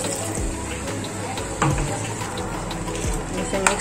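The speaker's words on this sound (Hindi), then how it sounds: "चलिए मिक्सचर का जो पानी था ना वो ऐड कर देती" Water from a spice mixture poured into a sizzling pan of onions and masala for lobia curry, a close gushing, bubbling fill over a continuous fry.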